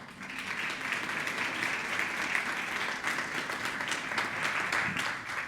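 Steady audience applause in a hall at a ceremony honouring justice-sector media work, a dense even wash of many hands clapping that holds at a moderate level throughout.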